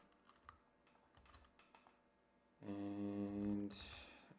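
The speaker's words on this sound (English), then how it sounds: "Okay, so then I'm typing ABC and then P." Fingers type a few keys on a computer keyboard during an operating-system programming session, giving soft scattered clicks that are followed by a loud sustained tonal buzz lasting about a second.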